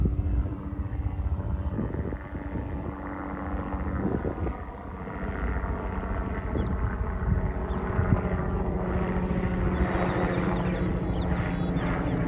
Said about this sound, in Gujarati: હેલિકોપ્ટર આવી, હેલિકોપ્ટર.